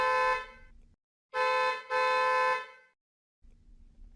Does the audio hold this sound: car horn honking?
yes